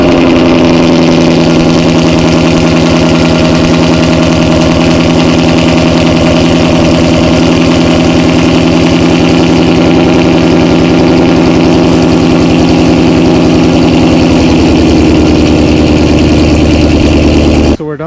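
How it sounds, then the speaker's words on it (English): A car engine with Texas Speed headers and a Corsa Extreme cat-back exhaust idles loudly and steadily after a semi-cold start, rough, throaty note, holding an even rumble before cutting off abruptly at the end. "You guys heard the semi-cold start."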